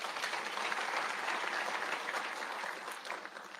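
A large audience at a Tangaza University graduation ceremony in Nairobi claps in a dense, sustained wash of applause. It holds steady throughout and eases slightly toward the end.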